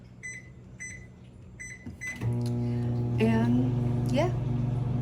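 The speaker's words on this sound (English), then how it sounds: "Get this one back in the microwave because it's" A microwave oven reheating cold chicken for a dog's food hums steadily after a few beeps and clicks, with a low constant drone running under the rest of the clip.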